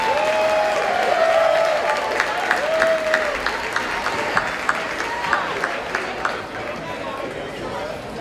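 Audience applause at a school fundraising gala, steady clapping from a crowd that swells then thins out, with voices talking over it and murmuring in the room.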